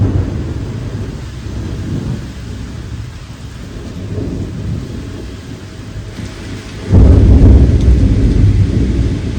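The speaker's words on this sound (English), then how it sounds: "this storm is wild." A heavy thunderstorm outdoors, with steady rain and deep rumbling thunder that swells into a loud, close crash near the end, with no talk.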